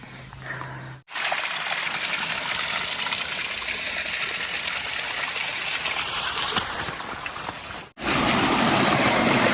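Stream water flows steadily along the Appalachian Trail after a rainy day, a loud, broadband rushing that fills the scene, briefly dropping out near the start and again near the end.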